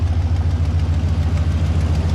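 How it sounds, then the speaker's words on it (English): A car engine idles close by with an exhaust leak, giving a loud, low, steady rumble with a quick regular ticking pulse running through it. "That bloody exhaust leak is horrible."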